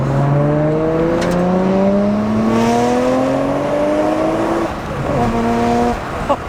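A Skyline R33 GTR fitted with a titanium exhaust revs loudly and close, its engine note climbing steadily for several seconds before a brief dip and a second rising pull.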